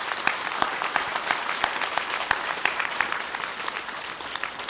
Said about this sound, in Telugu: వాలంటీర్స్ గట్టిగా చప్పట్లు కొడదాం మనం అందరం కలిసి